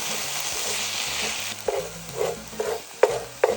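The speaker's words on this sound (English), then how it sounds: "Now I'm going to add some garlic. Saute that for about 30 seconds." Garlic sautéing in a pan with sweet peppers gives a steady hiss, then a utensil stirs in a few distinct scraping knocks that grow sharper toward the end, close by, without speech.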